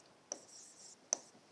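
Pen or pencil writing by hand on paper, giving two short, soft scratching strokes separated by quiet pauses, close to the microphone in a quiet room.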